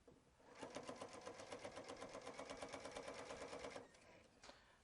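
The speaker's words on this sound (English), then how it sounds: "I'm going to sew to about 1 inch from the corner" A sewing machine stitches binding onto a quilt panel in one steady, rapid run of needle strokes that stops abruptly, followed by a brief quieter mechanical sound.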